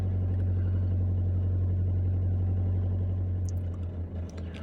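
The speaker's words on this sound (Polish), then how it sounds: "Samochód sobie chodzi na wolnych obrotach." Opel Vivaro van engine idling while slightly warmed up, with a steady, even low hum and a faint mechanical ticking, close and continuous, without any voices.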